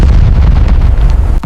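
Heavy explosives blasting a path through barbed-wire obstacles in a World War II D-Day beach assault, a loud continuous low rumbling boom with a sharp burst near the end.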